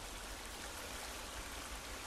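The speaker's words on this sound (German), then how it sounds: "Der Wasserfall ist auch gerade ein bisschen laut." A waterfall in the survival video game The Forest gives off a constant soft hiss of rushing water, faint and even, with no voices over it.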